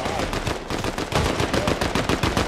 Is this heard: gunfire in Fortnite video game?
yes